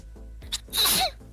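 A single loud human sneeze, with a short sharp intake of breath before it. It is close and heard alone, with no speech over it.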